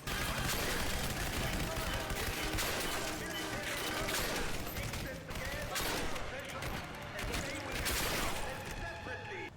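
Dense gunfire in Turning Point: Fall of Liberty crackles in rapid bursts of sharp shots, loud and continuous with brief lulls, mixed with game effects and some talk.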